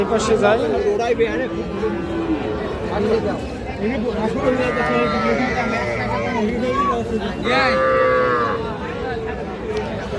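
Cattle and calves lowing at a busy livestock market, with several drawn-out moos rising over a constant babble of nearby voices and haggling chatter.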